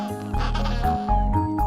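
Penguins calling on an Antarctic beach, a few close, loud bleating, braying cries in quick succession, one longer call followed by shorter ones.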